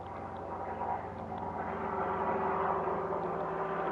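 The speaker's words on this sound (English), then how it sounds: "really loud helicopter" A low, steady engine rumble from a helicopter passing overhead, a continuous droning hum that swells slightly toward the middle, with no talking.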